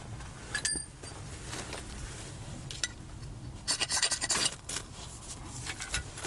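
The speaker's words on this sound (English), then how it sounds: "So just scraping what I need." Scraping of material with a blade at a bushcraft camp, a series of rough rasping strokes close by, uneven in rhythm, with a louder run of scrapes in the middle.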